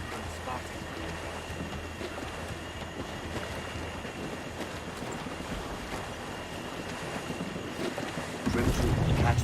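Sailing ship Jackdaw from Assassin's Creed 4 Black Flag moving through shallow, foggy coastal water: steady wind rush and creaking hull with water washing alongside, swelling louder near the end.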